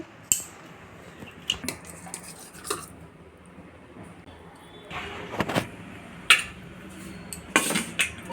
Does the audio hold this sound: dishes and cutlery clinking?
yes